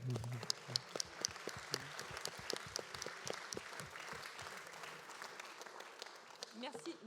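Delegates at a trade union congress applaud in a hall, with sharp individual claps that thin out toward the end, moderately distant and fairly quiet.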